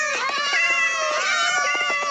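A cat meows repeatedly up close, a string of drawn-out, wavering cries with short breaks between them.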